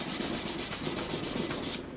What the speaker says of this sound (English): we're just going to do a little bit of hand sanding